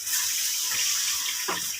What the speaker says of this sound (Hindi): अब हम थोड़ा सा इसके अंदर पानी ऐड करेंगे और इसको अच्छे तरीके से मिक्स कर लेते हैं।